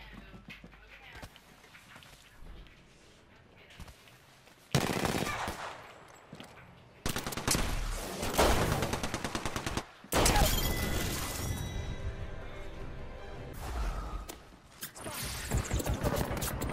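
Loud bursts of automatic gunfire in a shooter game, coming in several long, dense volleys separated by quieter stretches of background game noise.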